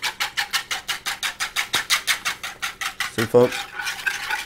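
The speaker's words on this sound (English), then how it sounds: "Just whisk it up." A marinade being whisked by hand in a bowl for a pescado zarandeado dish, making quick steady rhythmic scraping strokes, close and fairly loud, with a brief clink near the end and a short spoken remark.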